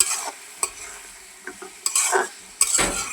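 Potatoes and onions with turmeric and spices are stirred in a hot pan, several distinct utensil scrapes and clinks over a low, intermittent sizzle, close and moderately loud.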